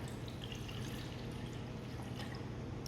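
Soy sauce and water mixture poured into a food processor, a steady close liquid pour with faint dripping and trickling throughout, no voices.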